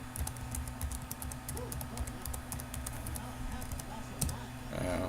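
Rapid clicking of computer keyboard keys as a command is entered, close and continuous, with a faint voice talking underneath.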